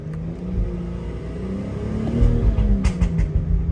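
A BMW X5 35i F15 with an MHD stage 2+ tune and rolling anti-lag rumbles and revs under load, with a few sharp crackling burbles near the end, heard fairly close with no talking.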